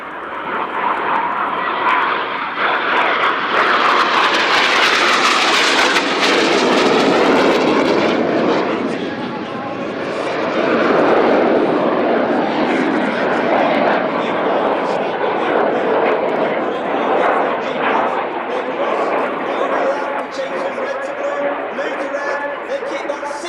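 Red Arrows jet aircraft roar through an air display at RIAT 2025, the engine noise swelling loud as they pass overhead and sustaining a broad, rushing drone that fades and builds again, with an announcer talking over it.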